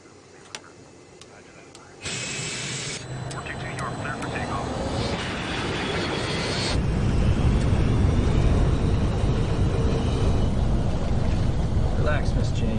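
Steady broadband engine roar inside a corporate jet cabin, building from a quieter hum to a loud, even rush that holds to the end.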